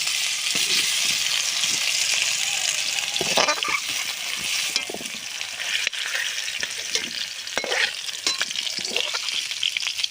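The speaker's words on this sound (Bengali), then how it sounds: "গাজর আর আলুটা সুন্দর করে ভাজা হয়ে গেছে" Carrots and potatoes fry loudly in a pan with a constant, crackling sizzle, overlaid by intermittent scraping from stirring.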